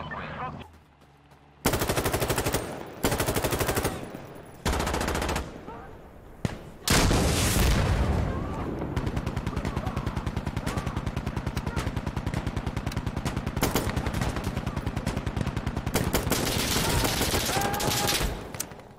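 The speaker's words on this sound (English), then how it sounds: "I got shot in the back." Loud, close bursts of automatic gunfire in the video game Insurgency Sandstorm, starting with several short volleys and then a long, sustained stretch of rapid shots, with voices talking at times.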